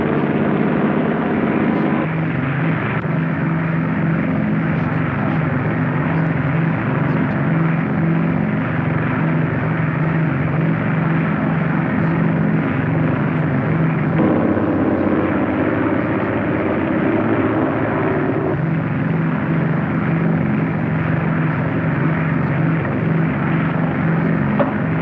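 An aircraft on landing approach gives a steady, loud propeller-engine drone that holds without a break from start to finish, with no voices over it.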